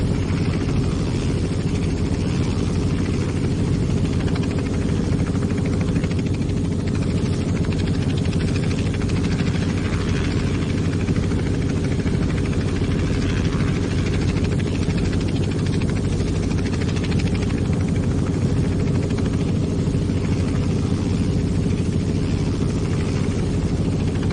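A Robinson R44 helicopter in X-Plane 11 drones with a steady, loud engine and rotor hum that holds an even low-pitched rumble with no break, alone and unchanging throughout.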